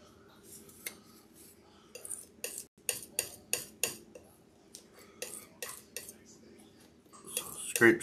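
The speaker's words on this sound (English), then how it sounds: "Use the top of my palette knife." A palette knife scrapes and taps against a palette while mixing paint, making a series of sharp, close clicks and scrapes in irregular bursts over a quiet background.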